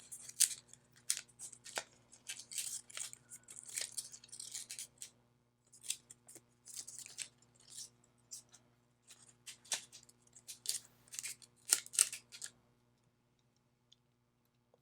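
An infusible ink transfer sheet being torn by hand in a quiet room, a faint series of crisp, crackly rips and ticks coming in irregular bursts with short pauses.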